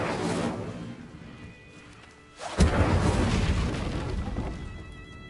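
The Incendio fire spell in a Harry Potter video game lands as a loud, deep boom with a roaring burst of flame after a short lull, then a sustained rumbling crackle that slowly fades.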